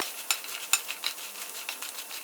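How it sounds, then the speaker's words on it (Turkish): Pide pieces being sautéed and stirred in a pan for a Bursa-style pideli köfte, giving soft sizzling hiss with a few sharp scraping clicks of a utensil against the pan, close and fairly quiet, no talking. "Evet bunları güzelce kavuracağız böyle."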